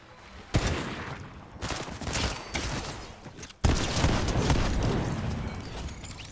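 Bursts of gunfire from an enemy player in the Fortnite video game, dense rapid volleys in two main stretches, loud and close, with sharp onsets and sustained crackling between shots.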